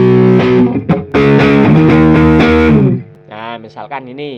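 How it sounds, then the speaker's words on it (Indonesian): Distorted electric guitar through an effects unit, sustained thick chords ringing loud and close for about three seconds before a few brighter wavering notes, with someone speaking briefly near the end. "kita coba explore lagi soundnya yang mirip, distorsi, sama-sama distorsi mungkin, tapi beda karakter"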